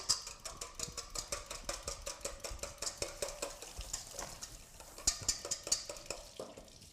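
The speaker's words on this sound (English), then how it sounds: "Just whip those together." Eggs are whisked in a bowl by hand in a home kitchen for rolls, a fast steady run of light clinking and tapping strokes that carries on evenly for several seconds at moderate volume.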